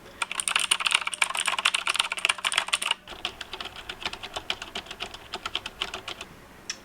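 Continuous typing on a custom hot-swappable keyboard fitted with Outemu switches, modified to be quieter; close, rapid clacky keystrokes, louder and brighter at first, then a softer, muted run of steady keypresses with no talking.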